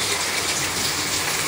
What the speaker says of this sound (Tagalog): Yan, nag-wash siya ngayon.